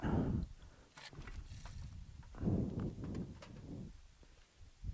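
A paramotor's pull-start cord is yanked, producing a ratcheting, whirring mechanical rasp in two main bursts with clicks between them, close and moderately loud, while the engine never catches.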